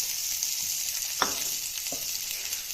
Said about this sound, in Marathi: आपला आलं लसूण थोडंसं परतलं तर आपण ह्याच्यात पातीचा कांदा टाकून घेणार आहोत